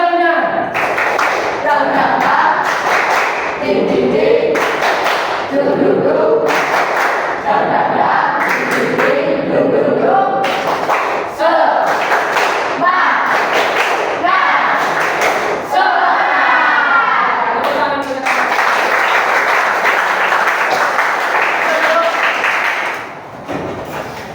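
A classroom of students stands and performs a rhythmic clapping chant during an Indonesian social studies lesson, loud bursts of hand claps keeping time between shouted group chanting, repeating in regular cycles close by.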